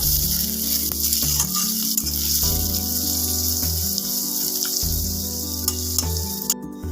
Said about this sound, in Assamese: মই পিঁয়াজখিনি ৰঙচুৱা হোৱাকৈ ভাজি ল'ম।